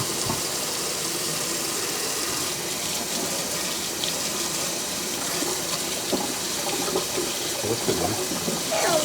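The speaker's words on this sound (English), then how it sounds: "Now time to wash your hands." Tap water runs steadily into a sink during handwashing, a continuous close splashing rush with faint voices and small movements underneath.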